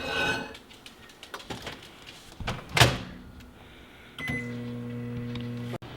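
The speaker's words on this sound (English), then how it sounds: "now we put this in the microwave for 5 minutes" A microwave oven heating rice starts up after a few clatters, a door thud and a sharp bang, then gives a steady close hum for the last couple of seconds before a click.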